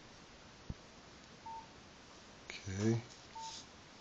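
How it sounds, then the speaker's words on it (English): DTMF keypad tones on a Samsung Galaxy Nexus phone dialing voicemail: a couple of short isolated beeps and a brief cluster of tones, faint and clean, with a single spoken word. "so I'll just dial the voicemail again"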